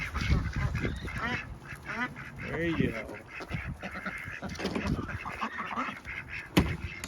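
Farm ducks quack repeatedly in a lively, close cluster, their calls overlapping and mixing with a person talking nearby.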